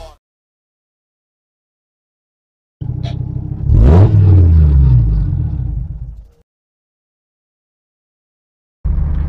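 A 25-year-old Lancia Delta car engine starts up close by, revving briefly with a rising then falling roar before cutting off, then rumbling to life again after a pause.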